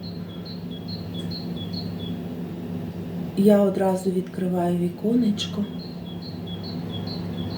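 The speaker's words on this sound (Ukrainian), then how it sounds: "і дуже голосно співають пташки" Small birds chirp in short repeated calls in the background, with a steady low hum and a brief stretch of speech in the middle.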